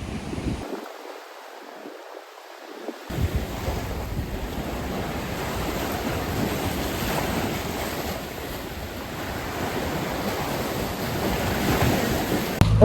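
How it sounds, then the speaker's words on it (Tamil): Sea waves wash onto the shore at Batu Ferringhi beach in Penang, a steady broad roar of surf with wind buffeting the microphone, near and continuous after a brief quieter opening, with no talking. "வீடு கிட்டே கடல் பாருங்க, அழகா இருக்கு."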